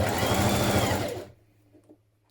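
A sewing machine runs fast and close while stitching the flounce of a McCall's 7745 spring wrap dress, a dense whirring buzz that stops abruptly, leaving quiet room tone and faint handling.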